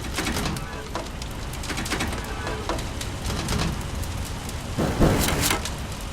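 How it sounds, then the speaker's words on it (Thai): Steady rain patters and splashes on surfaces nearby, a dense hiss with occasional louder drips and a bird cooing faintly in the background. "บ้านผมฝนตกว่ะ ฝนตก"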